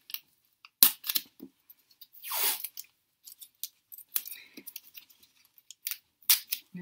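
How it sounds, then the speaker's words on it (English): Tape being pulled and pressed along the edges of a wooden cheese board being prepared for resin, with a long tearing rip in the middle among short, quiet crinkles and taps, close and fairly faint. "we're just going to go ahead and tape off all of our"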